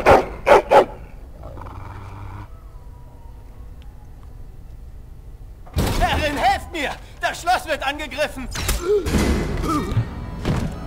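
A dog in the video game Dragon Age: Origins, during an attack on a castle, gives a few sharp, loud barks at the start, followed by a quiet stretch, then busy thuds, clashes and voices.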